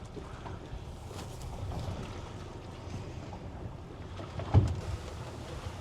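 A CG 35 M-Series fishing boat motoring on open water, a steady low engine rumble mixed with wind buffeting and water wash, with one brief louder thump near the end.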